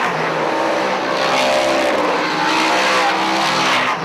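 A dirt modified race car slams into the wall at a dirt speedway amid a loud, continuous roar of racing engines and tire noise, with no gaps throughout.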